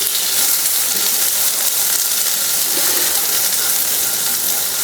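Onions sautéing in a pan for a South Indian elephant foot yam fry, a steady high hiss of frying that runs evenly throughout with no voices.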